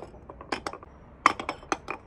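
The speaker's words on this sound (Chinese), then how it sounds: "冰块放在锅盖上" Ice cubes being set on an upturned pot lid over a water-filled pot, a series of sharp glassy clinks and knocks at uneven intervals, close and fairly loud, with no voices.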